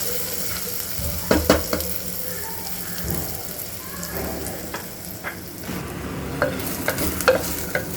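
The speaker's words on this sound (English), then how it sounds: "Also to this we'll add 3 chopped green chilies, roughly chopped, and a light stir to this." Roughly chopped green chilies are stirred in a frying pan over a soft, continuous sizzle, with repeated scraping strokes and clattering knocks of the spoon against the pan.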